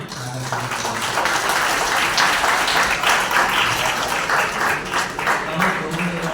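An audience at a Tamil heritage foundation's silver jubilee ceremony claps together in a sustained, moderately loud round of applause that swells and holds for several seconds.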